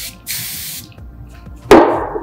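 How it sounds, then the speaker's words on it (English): Two quick hissing bursts of a spray bottle, close and loud, with a short pause between them. "Spray first."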